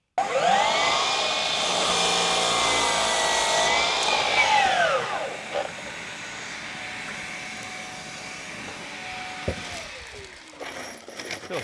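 A power saw cuts through wood in a workshop, whining loudly for several seconds with a rising and falling pitch, then spinning down, followed by quieter shop noises and a clatter.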